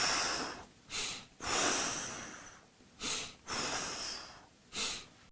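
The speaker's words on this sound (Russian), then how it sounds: "делайте длинный выдох и короткий вдох" A person doing a breathing exercise draws long exhales and short inhales, heard close up as loud, airy, nasal rushes of breath that alternate in an uneven rhythm with brief pauses between them and no talking.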